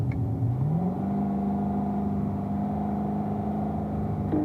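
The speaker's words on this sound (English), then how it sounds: "you're going to have 2 cars coming by you there" A race car engine drones steadily at a track, its pitch rising as it accelerates and then holding a sustained whine, with a second car faintly approaching at the end, no talking.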